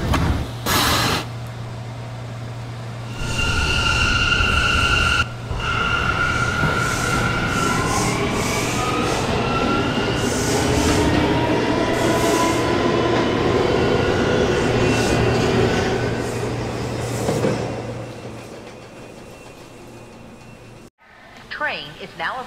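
A Brooklyn-bound C local subway train pulls out of the 42nd Street station, its loud rumble building then fading over about twenty seconds with wheel squeal and tonal motor whine, while a recorded announcement plays over it.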